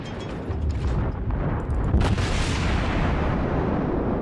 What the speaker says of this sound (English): Fire rate is unbelievable with these guns.